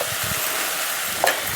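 Ginger and turmeric frying in a pan for a cauliflower and boiled egg curry give a steady, close sizzle with soft stirring, and one brief brighter scrape near the end.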